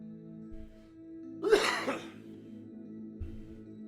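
A single sharp sneeze bursts out about midway, loud and close, during a tabletop fantasy role-playing game session, with faint room tone and a low hum around it.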